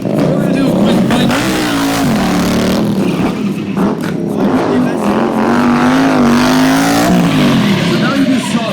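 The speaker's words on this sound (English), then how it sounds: "We were riding some bone stock 2018 Indian Scout Bobbers. Really loud." Stock 2018 Indian Scout Bobber motorcycles rev hard and roar at a Sturgis Rally thrill show, a loud continuous engine howl with pitch swings throughout.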